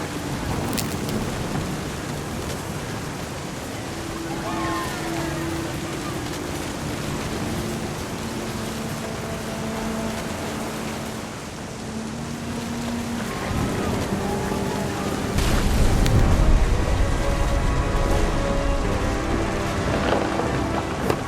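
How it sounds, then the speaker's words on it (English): A thunderstorm in the video game What Remains of Edith Finch: a steady wash of heavy rain with low rumbling thunder that swells into a loud, close crack near the end, while a calm narrating voice speaks over it. "Thunder sounded much too close and full of angry power"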